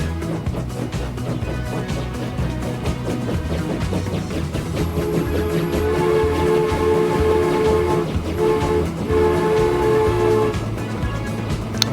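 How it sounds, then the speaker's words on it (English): A train in the Transport Fever 2 simulation game pulls out of a depot, with a steady low mechanical rumble and droning engine tones. Brief horn-like tonal notes rise partway through, all continuous and fairly loud with no talk. "And here comes my train."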